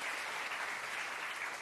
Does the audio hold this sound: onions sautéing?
no